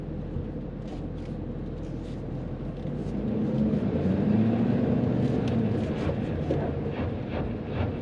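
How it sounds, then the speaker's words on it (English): A 2013 Ford F350 diesel 4x4 in 4 low, its idling engine a steady low rumble while the tires claw at gravel, the grinding growing louder and rougher midway through without any talk. "Yeah, it's clawing at this this gravel here."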